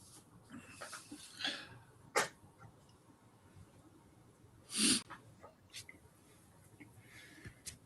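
One sharp, explosive sneeze stands out midway through a quiet room recording, with a fainter breathy burst a few seconds before it against low background hiss.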